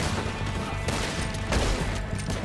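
Rapid gunfire from the Red Dead Redemption 2 video game, a dense continuous barrage of shots layered over a busy game soundscape, loud and sustained without pause.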